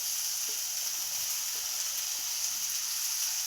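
Beetroot frying in a pan gives off a steady, even sizzle with faint soft taps of stirring now and then, close and unbroken, with no voices.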